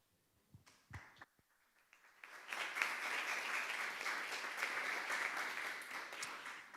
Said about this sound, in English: It's nice to get a clap for the long walk.